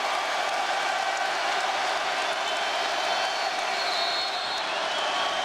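Basketball arena crowd heckling Kobe Bryant after an air ball, a sustained roar of jeers and cheers with scattered whoops, steady and moderately loud from a large audience.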